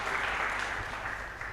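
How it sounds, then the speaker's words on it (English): An audience at an awards ceremony for a music competition at a college gives the band a brief round of applause, a dense, even clatter of many hands for under two seconds. "A round of applause for the band."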